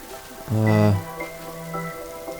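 A horse in Minecraft, modded with Mo' Creatures, whinnies once, loud and brief, followed by quieter drawn-out tonal sounds; no one speaks.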